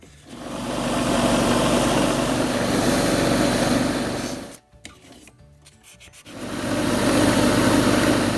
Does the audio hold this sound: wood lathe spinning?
yes